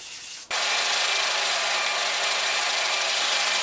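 Coarse 60-grit sandpaper scrubs steadily across a curved-wedge guitar action gauge, starting abruptly after a brief pause and then holding a loud, continuous, even rasp to the end.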